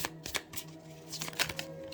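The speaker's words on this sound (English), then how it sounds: "So let's get one more shuffle and see where the outcome lies for this situation." Tarot cards are shuffled by hand in a quick run of crisp riffles and soft slaps, close and clear, with uneven bursts of papery flutter and no talking.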